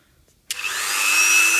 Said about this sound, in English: what I'm planning to do is Dremel into these shear off bolts, and hopefully make a groove